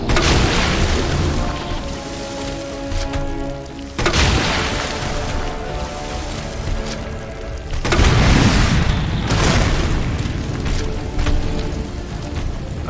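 Grenade blasts in the Resident Evil 2 Remake game: three loud, heavy booms about four seconds apart, each followed by a long rumbling roar that fills the space between them.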